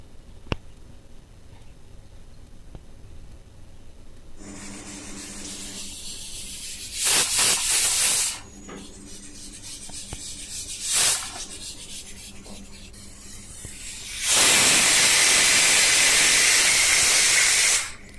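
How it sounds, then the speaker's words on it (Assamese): A pressure cooker with its lid closed cooks for a zero-oil meal, hissing steam steadily and loudly. It erupts three times into stronger, sustained whistling blasts, the last lasting several seconds. "এতিয়া মই কুকাৰৰ ঢাকনিখন বন্ধ কৰি দুটা হুইসেল যাবলৈ দিম"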